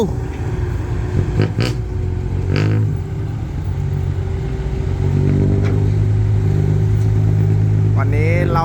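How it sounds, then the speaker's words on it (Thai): A diesel engine on heavy machinery near an earth-moving site rumbles steadily close by, with a few louder revving surges and clanking; someone speaks briefly over it. "ขับรถไถครับ"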